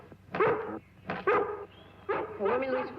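A dog barks indoors in three bursts of rough, voiced barks, loud and close, separated by short pauses over low background hum.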